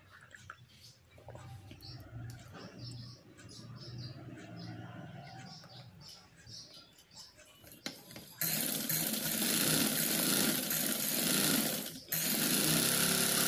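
Sewing machine stitching pieces of woolen baby boots, with soft mechanical clatter and handling noise at first, then a loud, steady whirring run close to the microphone that briefly pauses.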